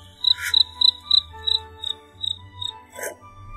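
A cricket chirps alone in a steady run of about ten short, clear pulses, with a brief rustle near the end in an animated Vietnamese fairy-tale setting.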